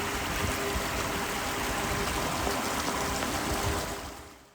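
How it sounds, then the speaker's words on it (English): A stream of running water on a waterfront property in Maine, flowing and emptying into a salt bay, gives a steady, close, rushing wash with no voices, easing off at the end. "the sound of that running water is just so soothing"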